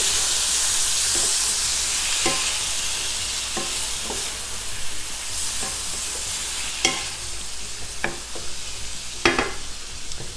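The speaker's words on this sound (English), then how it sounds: "I'm going to go ahead and add our 12 chopped Roma tomatoes." Twelve chopped Roma tomatoes sizzle and hiss steadily in a hot pan with garlic and olive oil, with occasional clinks and scrapes as they are stirred; no talking.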